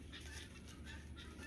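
A single backyard hen clucking softly among oak trees, faint and somewhat distant over a steady outdoor background hum, with no talking.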